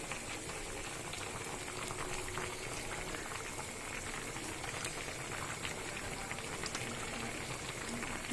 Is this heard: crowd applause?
no